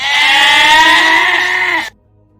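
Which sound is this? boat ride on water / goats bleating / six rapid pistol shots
goats bleating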